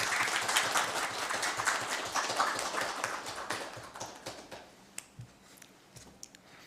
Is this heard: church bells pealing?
no